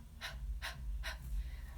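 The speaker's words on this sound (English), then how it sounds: "So breath of fire is like panting essentially." Rapid breath-of-fire breathing exercise: three short, forceful exhalations through the nose in an even rhythm, close and clear over a low steady rumble, with no talking.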